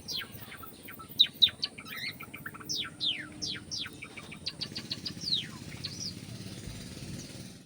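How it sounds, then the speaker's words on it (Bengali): Pet cockatiels on a rooftop chirp in a quick series of sharp, high whistled notes, some close and bright, over a low hum of distant traffic or engine noise. "এই দেখো এখানটা ওই চারটে পাখি রয়েছে ককটেলগুলো"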